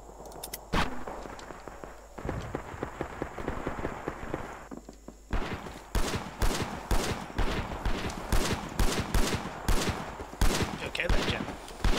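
Gunfire in the Vietnam War game Rising Storm 2: Vietnam during a frontal assault on Cu Chi, with dense rapid rifle and automatic bursts, sharp cracks and rumbling blasts, loud and close, with players talking over it.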